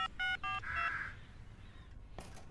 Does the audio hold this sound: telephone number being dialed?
yes